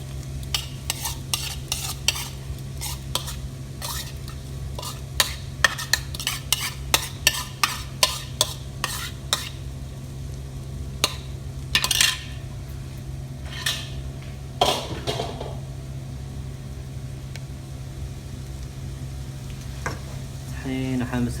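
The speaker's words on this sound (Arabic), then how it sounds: "الحين احمس الفلفل عدل مع البهارات والثوم" Chili peppers fry with spices and garlic in a pan, a spoon scraping and clinking against the pot in irregular strokes over a steady sizzle, close up, with the stirring thinning out in the second half.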